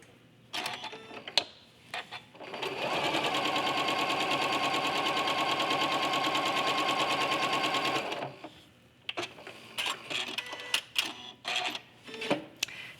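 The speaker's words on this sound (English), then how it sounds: "as you're manipulating your blocks and sewing them together" A sewing machine set to a 2.2 stitch length runs steadily for about five seconds while stitching quilt blocks together, a loud even whirring hum, with brief clicks and handling noises before and after.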